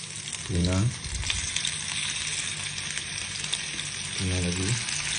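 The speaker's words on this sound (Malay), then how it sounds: "Kita goreng" Steady sizzling of tuna frying in a hot pan, a continuous crackling hiss, with a couple of brief low voice murmurs.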